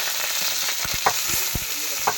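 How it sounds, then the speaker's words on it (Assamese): Close, steady sizzle of onions and chillies frying, with a few sharp stirring clicks from a spatula against the pan. "পিঁয়াজ জলকীয়া এতিয়া ফ্ৰাই কৰি আছোঁ।"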